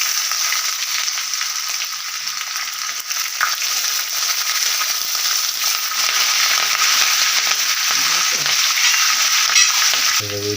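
Chopped green chillies and small shallots sizzle in hot oil, the base for a yam upperi stir-fry. A loud, steady frying hiss runs throughout with a few faint clinks, and no one speaks.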